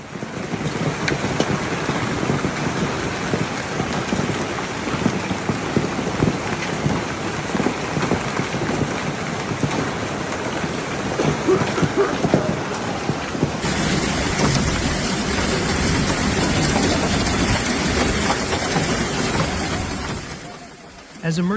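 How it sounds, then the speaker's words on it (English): Heavy rain pours across Paris during a sudden May hailstorm, a dense, loud, continuous hiss of drops pelting surfaces, with low rumbles suggesting thunder beneath and a slight shift in texture partway through before fading at the end. "The May 3 hailstorm began as a sudden, explosive squall that swept across Île-de-France"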